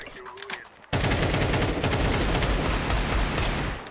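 Rapid automatic gunfire in a Counter-Strike match erupts abruptly after a brief moment of quieter sound and keeps up as a dense, loud barrage before tapering at the end.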